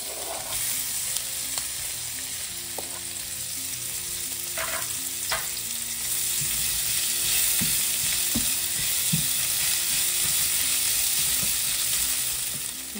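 Potato and onion fry in a pan of oil alongside jowar flakes, a steady close sizzle with occasional scrapes and stirring clicks, no talking.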